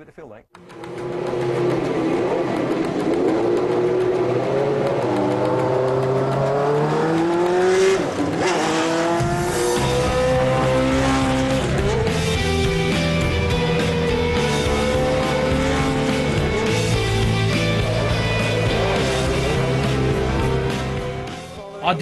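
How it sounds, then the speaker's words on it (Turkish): Race car engines fire up in the pit lane and rev hard, their loud, layered roar rising and holding close by for about twenty seconds, with voices at times underneath. "Pit yoluna gidip motorları çalıştıralım."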